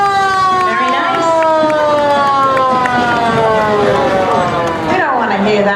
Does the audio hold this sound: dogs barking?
no